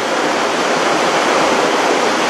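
Water runs down the rock walls of a gorge at Hřensko in Bohemian Switzerland, a loud, steady, close rushing wash that carries on without a break and cuts off at the end.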